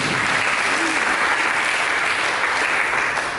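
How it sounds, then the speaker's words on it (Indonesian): Dense, even applause fills a church congregation during a sermon, a continuous wash of many hands clapping at a steady level for the whole stretch. "Berikan tepuk tangan dulu"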